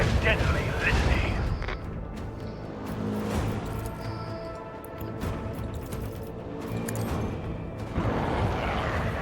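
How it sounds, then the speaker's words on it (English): Macro cannons on a starship fire in Warhammer 40k: Rogue Trader, heavy booming blasts rolling and overlapping at the start and end, with a voice talking over the combat. "Let the macro cannon sting their deadly litany."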